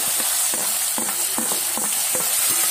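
Onion, tomato and peanuts sizzle steadily in a pan for masale bhat, with a constant frying hiss broken by repeated scraping and clinking stir strokes in an even rhythm.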